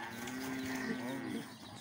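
A hoarse calf bellows in one long, rough moo that strains and breaks near the end, close and loud with farmyard background.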